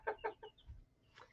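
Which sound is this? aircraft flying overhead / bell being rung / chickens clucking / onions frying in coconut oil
chickens clucking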